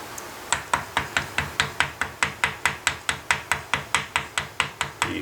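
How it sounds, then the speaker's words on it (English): Regular mallet blows drive a chisel into wood as a cross is carved at a gunsmith's bench, about twenty evenly spaced sharp knocks, close and loud, each decaying quickly, with no talking. "you're trying to keep the cut an even depth, so you kind of have to work your chisel over."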